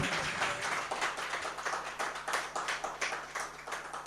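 Audience at a tribute music concert claps in a steady, rhythmic round of applause, fairly quiet and even throughout, with a faint low hum underneath.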